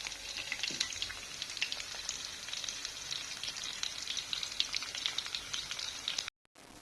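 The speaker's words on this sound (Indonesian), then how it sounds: "Wah, udah aku goreng sampai kering." Food fries in a pan until crisp, giving a continuous crackling sizzle with small pops, close and steady, before the sound cuts off abruptly near the end.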